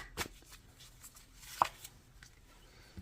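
Tarot cards drawn and slid from a deck during a reading, a few quiet papery flicks and one sharper snap in a near-silent room.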